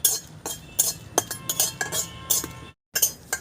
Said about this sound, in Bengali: লঙ্কাটা কিন্তু একটু শক্ত করার জন্য আমি শুকনো কড়াইতে নাড়াচাড়া করে নিলাম